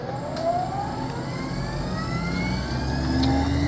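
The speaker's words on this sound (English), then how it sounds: "we're going to turn the test rig up to 5000 RPM" An alternator test rig runs up to 5000 RPM, a steady motor whine with rising tones that climb through the clip, continuous and fairly loud with no talking.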